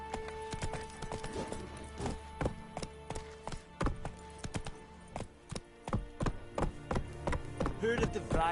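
Roach the horse gallops in The Witcher 3, hooves pounding a steady, rapid clip-clop rhythm up close, with an ambient game backdrop and occasional faint voices.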